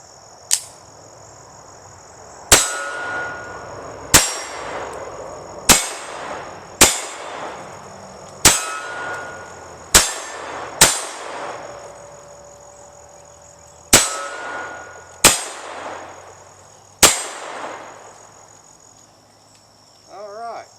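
Ruger Mark IV Standard .22 rimfire pistol fired at an outdoor range, about a dozen sharp, loud cracks in an uneven slow series, each trailing a brief echo decay, with no talk over them.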